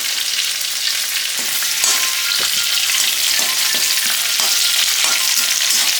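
Cut green chillies and curry leaves fry in hot oil for a Godavari-style banana flower usili, giving a loud, continuous close sizzle with scattered crackles and pops throughout.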